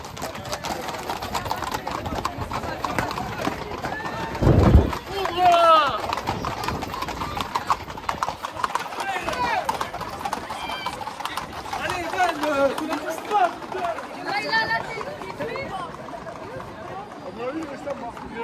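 During an abrivado at the Feria des Vendanges in Nîmes, horses clatter along a crowded street with loud, rapid hoof clip-clops, an occasional whinny and a busy crowd. Someone talks over the noise.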